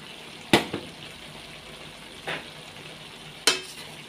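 Chicken and cauliflower with other vegetables being stirred in a pan, giving three short, sharp scrapes or clatters spaced a couple of seconds apart over a faint steady background, with no talking.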